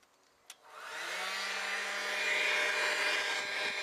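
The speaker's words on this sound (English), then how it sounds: "Hair dryer fits like I hoped." A hair dryer blows through a welded pipe into a homemade car-wheel forge: a click, then a rising whoosh as it spins up into a steady, close, whining airflow drone.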